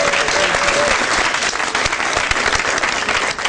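Loud, dense audience applause rolls on steadily at an official public address, with a brief voice faintly audible near the start.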